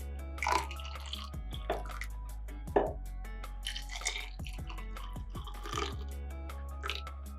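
Coffee poured into a glass with water, topped up halfway for a rose latte, heard as soft trickling and dripping splashes at close range over a steady low hum.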